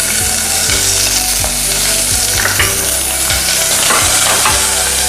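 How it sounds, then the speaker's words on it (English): Onion and garlic sizzle loudly in a hot smoking pan for chilli beans, a bright continuous fry broken by repeated scraping stirs every second or so, close up with no voices. "Then we're gonna add our onion and our garlic into this hot smoking pan."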